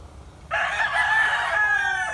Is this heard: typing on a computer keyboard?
no